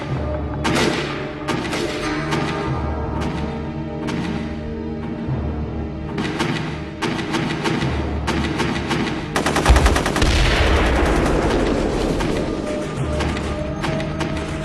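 Soldiers fire rifles outside a gate in combat against Iraqi special forces: rapid bursts of gunfire and single shots crack and echo, joined by heavier thumping fire and a dense volley, near and loud with no talk.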